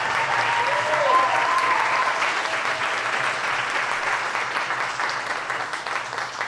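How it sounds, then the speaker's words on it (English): A live audience claps in sustained, dense applause that stays loud and steady throughout, easing off only slightly toward the end. "Anybody tell y'all to stop clapping?"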